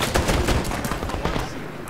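Rapid gunfire from the 2010 video game Medal of Honor, with dense bursts of automatic weapon shots overlapping loudly throughout and fading slightly toward the end.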